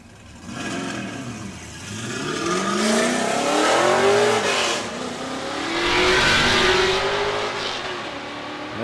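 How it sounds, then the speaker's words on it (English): A Corvette racing up the Weatherly hill climb, engine revving and climbing through gears as it passes, rising and falling in loudness with a doppler sweep, no one speaking. "Yeah, that's a nice Corvette."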